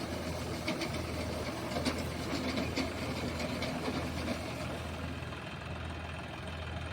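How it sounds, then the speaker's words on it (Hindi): A tractor pulling a trolley runs on a slightly downhill stretch during wheat harvesting, its engine giving a steady mid-level rumble with faint rattling, at moderate distance and without talk. "ये हमारे मोनू भाई का ट्रैक्टर है"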